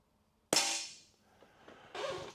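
A single sharp crack of an AirVenturi Comp10 .177 ten-meter air pistol firing a pellet, loud and close, decaying over half a second, followed by faint mechanical clicks and a second broadband burst.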